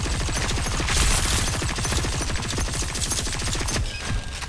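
Several players in a video game fire continuously, producing a fast, dense rattle of shots that stays loud and unbroken, with no talking.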